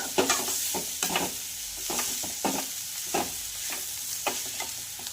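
Dry green peas being stirred with plenty of fresh coriander in a pan, a spoon scraping in steady repeated strokes over a soft continuous sizzle, close and alone with no talking.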